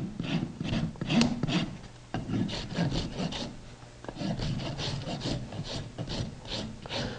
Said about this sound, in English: the bar on the medial or the inside grabs the hoof and holds it there while we work, while we file.